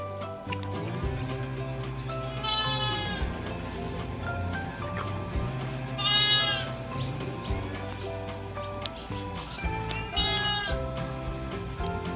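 Orphan lambs in a large bum pen on a sheep ranch bleat in three clear, wavering calls spaced several seconds apart over a steady background of pen noise and other animal sounds.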